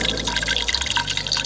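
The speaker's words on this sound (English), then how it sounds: "they're just siphoning out from the container into the pipeline slowly" Water siphoning slowly from a container into a municipal distribution pipeline at an end-of-line hydrant, heard as a steady close trickle with small drips and gurgles over a low hum.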